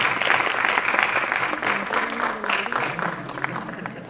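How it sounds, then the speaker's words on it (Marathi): Audience at a film trailer launch event clapping loudly and continuously, a dense crowd applause that eases slightly toward the end. "जोरदार टाळ्या राजसी"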